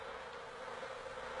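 Scout bees buzzing at their hive, a steady, dense insect drone that holds evenly throughout without pause, close and continuous, with no voices.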